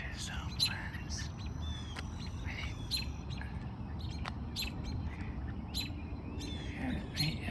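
Small birds call while dive-bombing a hawk outdoors, sharp chirps and squawks scattered repeatedly across the clip over steady wind and rustling background noise.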